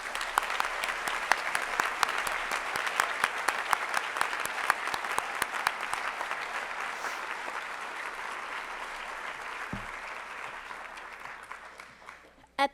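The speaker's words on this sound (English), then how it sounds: "Let's please give them a round of applause." An awards-ceremony crowd at a 2016 research and development forum applauds in a dense, steady patter of many hands that gradually thins and fades toward the end, with a brief bump of noise at the very close.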